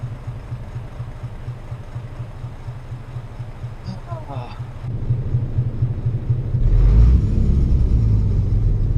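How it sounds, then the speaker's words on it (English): Truck engine in Euro Truck Simulator 2, a steady low idling rumble with a pulsing drone that swells louder partway through, alone without talk. "The truck is a little loud for me."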